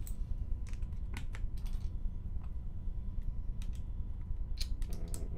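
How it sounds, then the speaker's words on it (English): Keycaps pressed onto a mechanical keyboard, a run of sharp clicks and snaps in irregular clusters over a steady low hum, close and crisp with no speech. "Let's get some keycaps on."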